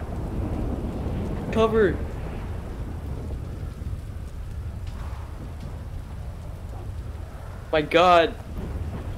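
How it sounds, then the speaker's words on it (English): Video game thunderstorm around Sandy Shores: steady rain and low rumbling thunder run throughout, under two short bursts of shouting voices. "It's the storm again"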